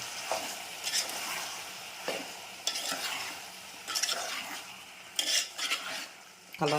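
A spoon stirs tomato and potato curry with chana dal in a pan, scraping and clinking against the metal in regular strokes about once a second over a soft sizzle, close and fairly quiet with no talking.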